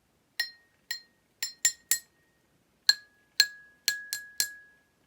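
A glass cup about two-thirds full of water is tapped as a musical cup, ten clear ringing clinks in an uneven rhythm, each fading with a short sustained tone, close and alone.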